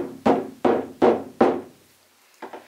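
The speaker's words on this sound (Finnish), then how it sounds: "Tai sä olet ottanut ja kantanut sen kotiin, sen rummun, ja se kuulostaa tältä." A shaman frame drum with a slack, wrinkled skin is struck four times in an even rhythm, giving dull, short thuds without ring, followed after a pause by two fainter taps.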